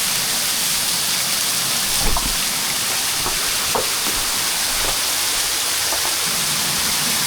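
A waterfall pours at a cave entrance, a steady, full rushing wash of water that drowns out everything else, with a couple of faint knocks underneath.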